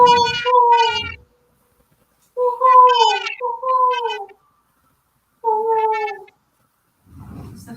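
A cat cries outdoors in a front yard, several loud drawn-out meows in separate bursts with silent gaps between, close and clear.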